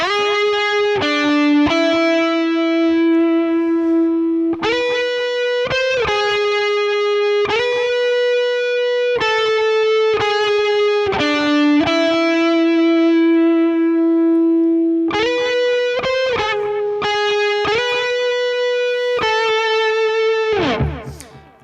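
An electric guitar plays the Fortnite theme's slow lead melody of sustained, effected notes with a processed, slightly distorted tone, one note after another without any talking.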